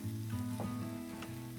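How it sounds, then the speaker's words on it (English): Tripletail fillets cook directly on a hot flat top grill, giving a steady close sizzle and frying crackle throughout with a few brief sharper pops. "It's sizzling hot, it's good"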